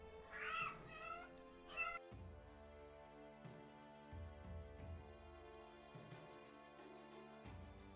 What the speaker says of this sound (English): Never mind, the cat's restless.